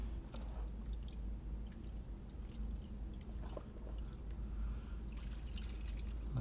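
Engine oil mixed with water drains steadily out of a MINI Cooper S crankcase with a broken water jacket, a faint continuous trickle and pour heard close up with no talk.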